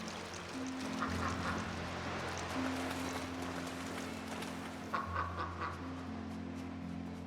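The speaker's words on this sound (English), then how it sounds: "Hello, ducks." Ducks in the video game Lost Ember quack softly in scattered calls over a steady, low ambient drone of the game world.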